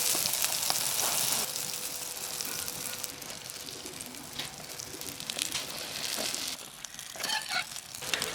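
A flatbread pan-fries on a hot griddle with a continuous crackling sizzle, louder at first and then settling, with scattered pops and faint clinks toward the end.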